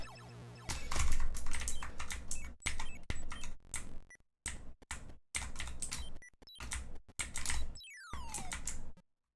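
Typing on a water-damaged computer keyboard, a close, busy clatter of key presses in rapid bursts separated by short pauses, with a few sharper clicks near the end.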